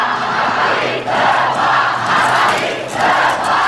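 A revolutionary crowd shouts its demands beneath a royal balcony. The massed voices swell in loud, roaring waves with a brief dip about a second in.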